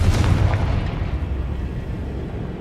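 A heavy booming blast from the Confringo fire spell in Hogwarts Legacy, opening with a strong low-frequency thump that decays into a long, rumbling roar, loud and close with no other sounds.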